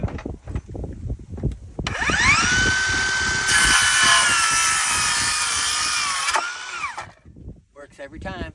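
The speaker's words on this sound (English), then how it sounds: "then we'll get the cross pieces cut" Wooden cross pieces are cut with Ryobi power tools: a high-pitched whine spins up, holds steady for about four seconds, rises in intensity midway, then winds down, with handling noises before and after.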